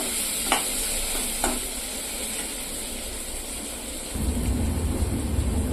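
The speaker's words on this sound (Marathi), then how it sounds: "टोमॅटो सुद्धा आपण यात चांगला परतून घेणार आहोत, नरम करून घेणार आहोत टोमॅटो यात।" Tomatoes for egg bhurji sautéing in a pan with a steady broadband sizzle, a couple of sharp scrape clicks from stirring early on, and a louder, fuller frying rumble toward the end.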